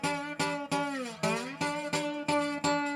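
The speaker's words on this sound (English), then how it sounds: "If I don't dampen with my right hand or my left hand, it kind of sounds like this" Slide guitar played without damping the strings, a series of about eight plucked notes with audible sliding pitch bends and ringing overtones bleeding into one another, moderately quiet with no talking.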